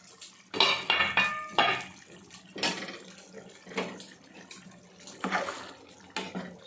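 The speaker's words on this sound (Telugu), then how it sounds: "మనం ఒకసారి మళ్ళీ కూర కలుపుకుందాము." Egg omelette and raw cashew curry stirred in a pan, heard as a series of clattering metal spoon scrapes and knocks against the pan in irregular bursts, fairly close, with no talk.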